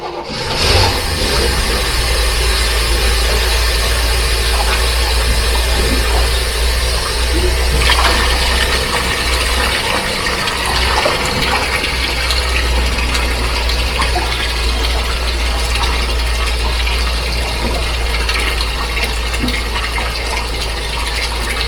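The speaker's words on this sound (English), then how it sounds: "the hose that comes from the water pump. And then I'm just going to run it down to the bilge" Steady rushing water flows without pause from a water pump hose into a boat bilge under a constant low motor hum, loud and close, with no voices.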